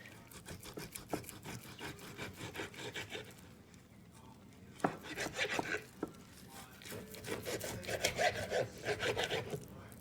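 A knife sawing through a pot roast to cut it in half, producing repeated close rasping, rubbing strokes in an uneven back-and-forth rhythm, fairly quiet with a louder stretch near the end.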